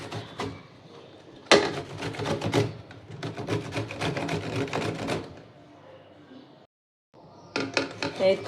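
A guava grated by hand makes rapid, rhythmic scraping strokes in close, steady runs with short pauses between them.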